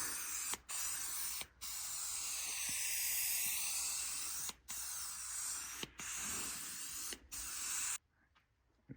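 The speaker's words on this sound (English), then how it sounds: "I'm going to start by dousing these troubled areas with this multi-purpose cleaner I have here" Multi-purpose cleaner sprays from a trigger bottle onto a Subaru car seat in long, loud hissing bursts, briefly broken by short pauses, then it stops and near silence follows.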